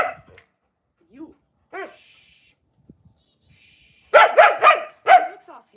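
Dogs bark indoors in short scattered yips and whimpers, then a burst of several loud close barks near the end, with a voice speaking briefly early on.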